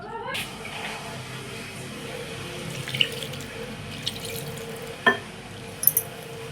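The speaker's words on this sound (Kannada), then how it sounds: "ಇವಾಗ ನೀರು ಹಾಕ್ಕೊಂಡು ಕಲಿಸ್ಕೊಳ್ಳೋಣ" Water runs from a tap and splashes as it is added to kodubale dough for mixing in a home kitchen, a steady close trickle with a few small clinks and knocks.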